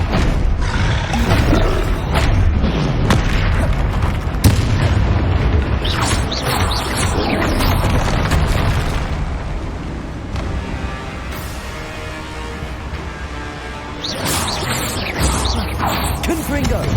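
Confringo spell blasts in Hogwarts Legacy: repeated heavy booming explosions with roaring rumble, loud and close, fading into a lingering crackling tail before another blast hits near the end.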